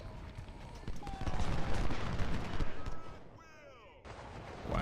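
Musket volleys and rifle fire crackle through a Civil War battle scene in the Ultimate General: Civil War game, with dense, continuous shots and distant rumble, a brief quieter stretch near the end before the firing swells again.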